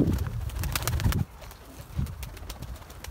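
Pigeons coo and wings flap close by in a brief flurry as a bird is released, quickly fading to quieter outdoor background.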